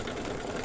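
An embroidery machine stitches a dog design on an in-the-hoop quilt block, giving a steady mechanical whirr with a fast even stitching hum throughout a very short stretch.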